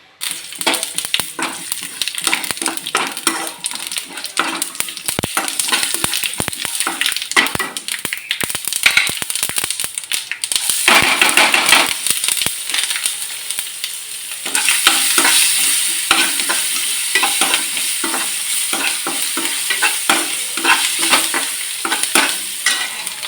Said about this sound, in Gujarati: અમે થોડુંક તેલ મૂકી દીધું છે અને આપણે એની અંદર હવે વઘાર કરીશું